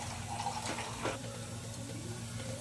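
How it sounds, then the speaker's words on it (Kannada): Sambar poured into a pan of onions fried in oil, a steady liquid gush and splash close by, brief and continuous with no talking. "ಈಗ ಸಾಂಬಾರು ಒಳಗಡೆ ಸೇರಿಸ್ಕೊತಾ ಇದ್ದೀನಿ"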